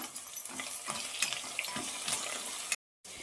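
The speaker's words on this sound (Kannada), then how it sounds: "ಇವಾಗ ಒಂದು 12 ಗೋಡಂಬಿ ಪೀಸ್ ಮಾಡಿಟ್ಕೊಂಡಿದ್ದೀನಿ, ಅದನ್ನು ಹಾಕೊಳ್ಳೋಣ." Cashew pieces dropped into hot oil in a pan while making carrot rice, giving a steady close sizzle and crackle with a few stirring scrapes, then a brief cut to silence near the end.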